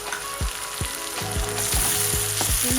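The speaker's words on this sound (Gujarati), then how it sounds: "તેને સાંતળી લઈશું." Crushed tomato sautéing in hot oil with onion and ginger-garlic paste for pav bhaji gives a steady close sizzle, broken by repeated soft knocks and scrapes of stirring at a loose rhythm.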